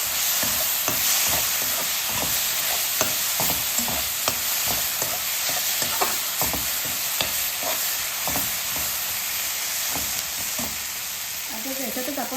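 Ginger and garlic sautéing in hot oil in a pan, a steady close sizzle broken by repeated scraping stirs of a spoon throughout, with no voices.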